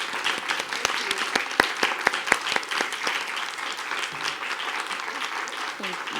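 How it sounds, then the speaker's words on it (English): Audience at a school district board meeting claps for an honoree, with several sharp, close claps early over a moderate, fairly thin round of applause that continues amid some background voices. "Let's give Ms. Mercer a round of applause."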